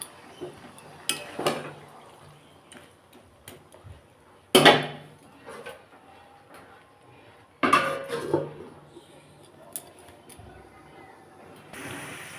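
Cabbage curry with fish head in a pot, a splash of water added before a lid goes on, bringing several loud metallic clanks and rattles between quieter stretches of cookware handling.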